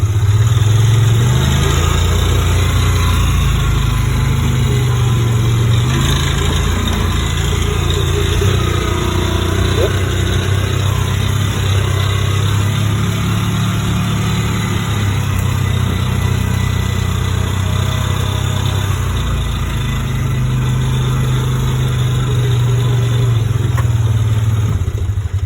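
A vehicle engine hums steadily and close for the whole stretch while reversing on a house-building site, its low drone rising and falling slightly with rattling clatter mixed in.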